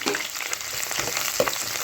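Onions and green chillies fry in a pan for chana dum biryani, a steady close sizzle with occasional stirring scrapes and no talk.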